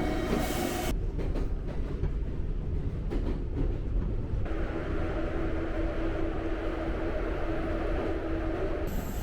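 A Japanese Odakyu Railway train runs past with a steady, loud rumble and rail noise that continue throughout. No one speaks.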